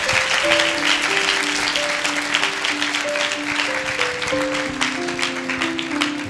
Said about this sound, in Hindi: क्या इसके लिए ताली बजा के आप प्रभु को धन्यवाद दे सकते हैं?